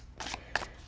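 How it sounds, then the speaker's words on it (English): Gilded Tarot cards riffled in two short bursts of papery shuffling, close and fairly quiet, with no talking. "So I'm going to shuffle"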